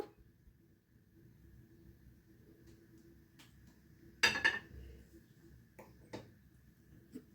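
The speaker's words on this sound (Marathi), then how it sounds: "गॅसवर भांडं हे मी ठेवलेलं आहे" A clay cooking pot is set down on a gas stove with a single short clunk partway through, followed by a few faint knocks and clinks over a quiet kitchen background.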